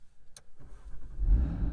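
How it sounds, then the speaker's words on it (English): An Audi RS3 hatchback facelift engine cranks and catches, settling into a low, rumbling exhaust burble that grows louder and steadier. "So that nice little burble there from the exhaust."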